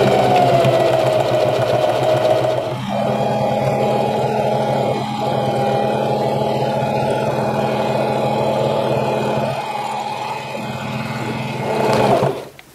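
A regular domestic sewing machine runs steadily through free-motion quilting and thread painting, a loud close motor whir that dips briefly in pace before stopping near the end.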